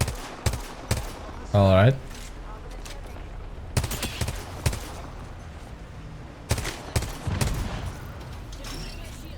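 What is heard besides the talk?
gunfire in the video game Apex Legends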